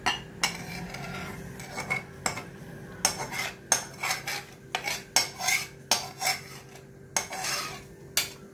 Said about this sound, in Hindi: अब मैं डिश आउट कर रही हूँ